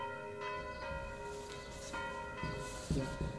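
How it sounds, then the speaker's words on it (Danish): Large church bells ring steadily with sustained, overlapping metallic tones and repeated strikes, loud and close inside the tower, with no voices. "At få de store klokker i svingning er hårdt og tungt arbejde, og lyden fra klokkerne er så høj"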